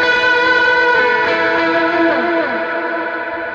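Electric guitar played through a Klon Centaur clone overdrive pedal, a sustained overdriven chord ringing full and bright, with notes bending and slowly decaying, alone.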